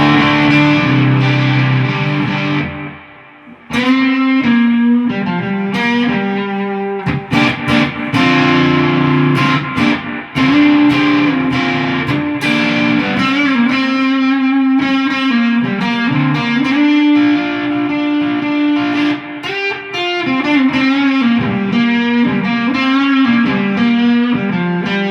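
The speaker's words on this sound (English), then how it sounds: "Wampler Faux Tape Echo version 2." Electric guitar played through a Wampler Faux Tape Echo version 2 pedal with mids boosted and gain around 1 o'clock, a loud, sustained distorted tone with repeating delay tails running almost continuously, with a brief drop near the start.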